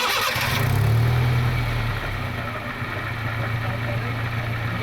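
A Honda City car engine starting and then idling, a brief cranking whir settling into a steady low hum, loud and close throughout.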